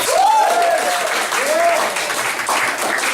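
Audience applause at a comedy club improv show, a steady burst of clapping lasting several seconds with a voice calling out over it.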